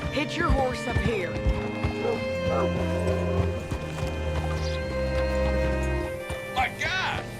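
Horse hooves clip-clop steadily on the ground in Red Dead Redemption 2, with an occasional whinny and game characters talking over the clatter.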